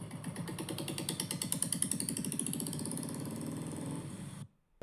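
Royal Enfield Bullet motorcycle engine on a suburban street, running with a rapid, even thumping beat, loud and steady for about four seconds before cutting off sharply.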